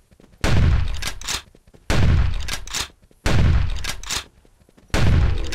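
Four heavy shotgun blasts fired at an Ankylosaurus in the hunting game Carnivores 2, each a loud, booming report with a decaying tail, spaced roughly every one and a half seconds.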